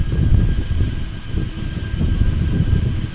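A Kalitta cargo jet landing at Amsterdam Schiphol and decelerating without thrust reversers produces a continuous deep rumble of engine and rollout noise, fairly loud and steady throughout the short stretch.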